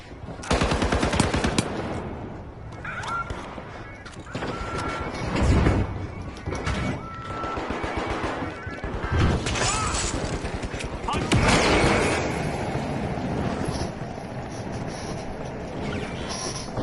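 Dense, continuous gunfire and explosive rocket blasts in the video game The Finals, loud and relentless with crashing bursts throughout, and someone talking at points under the din.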